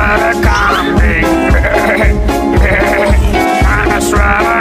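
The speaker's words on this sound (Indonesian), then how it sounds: "Mana suara kambing?" Goat bleating loudly in repeated wavering cries, up close and steady, set against music in a children's animal-sounds song.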